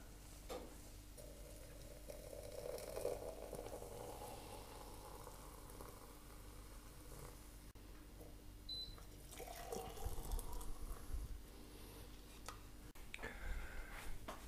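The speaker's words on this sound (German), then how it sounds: "Die Gläser und jetzt abfüllen." Hot homemade pear juice pours into glass jars, a faint continuous trickle and splash with a louder, fuller gush toward the end, heard close with no voices.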